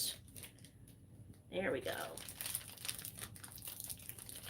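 Scissors cut into the plastic bag of a Holiday Princess Snow White doll package, giving a short, close burst of crinkling plastic amid quiet handling noise, with a person speaking briefly.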